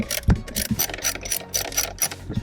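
Ratchet clicking steadily as two bolts are backed out inside a Ford F150 Raptor during a dash screen install, a close, rapid series of sharp metallic ticks in short bursts with no talking.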